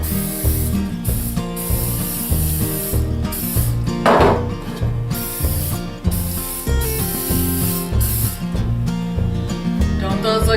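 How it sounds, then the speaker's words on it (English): Cooking spray hisses in short bursts over loaf pans for bread dough, mixed with clattering and rattling kitchen handling sounds against a busy backdrop. "Might as well spray them now."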